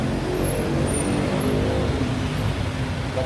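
A loud automatic scooter-style motorbike with an open, unmuffled exhaust passes close by, a steady roaring engine drone with no talking.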